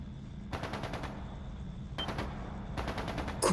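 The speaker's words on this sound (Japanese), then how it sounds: "まさか銃声なのか" Rapid bursts of gunfire in the video game Trails into Reverie, three separate volleys of crackling shots over a steady low rumble of game ambience.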